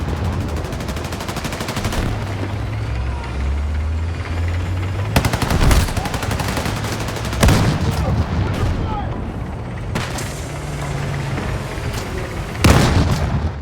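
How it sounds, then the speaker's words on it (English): Tank cannon shells firing in the video game Battlefield 6, four heavy booming blasts spaced a few seconds apart over a constant rumbling engine and battle din, with no talk. "I fire my shell and move back behind the rocks"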